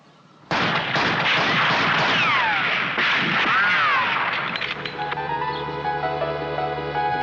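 Rapid rifle fire from soldiers in a Doctor Who episode, a loud, dense burst of overlapping shots that starts abruptly and trails into music and ringing tones.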